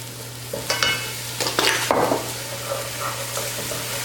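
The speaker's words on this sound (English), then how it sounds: "what we want to do on high heat is add 2 tablespoons of balsamic vinegar" Onions sauté over high heat as balsamic vinegar hits the pan, giving a burst of loud sizzling and scraping stirs that settles into a steadier hiss over a constant low hum.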